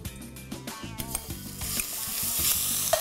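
Onion sizzling and frying in hot oil, a steady crackling hiss rising gradually, with pot sounds and rhythmic thumps in the background.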